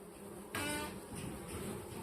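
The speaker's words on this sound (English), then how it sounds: "We have a couple baby bees being born right now." Honeybees inside a backyard hive with young bees emerging from their cells: a dense, steady buzzing hum close to the microphone, swelling slightly louder midway and continuing without pause, no voices.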